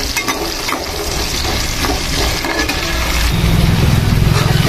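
Ridge gourd pieces and green chillies frying in a pan, giving a loud, close, continuous sizzle with occasional stirring scrapes, without talk.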